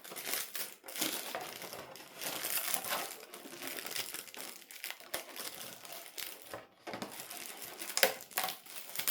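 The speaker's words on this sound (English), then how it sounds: "when you remove all the plastic outer film" Protective plastic film being peeled off a freshly painted Tamiya Neo Scorcher RC car body, continuous close crinkling and crackling with ripping bursts and brief pauses.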